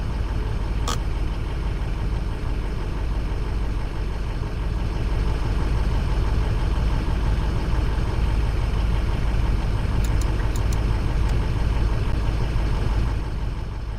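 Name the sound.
Ford pickup truck engine idling in the video game Greenville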